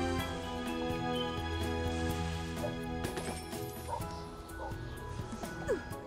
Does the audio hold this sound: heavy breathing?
no